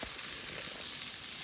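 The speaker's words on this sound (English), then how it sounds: "we're just going to let these sit here and fry up" Green beans frying in a pan give off a steady, close, even sizzle that runs unbroken and alone from start to finish, with no voices.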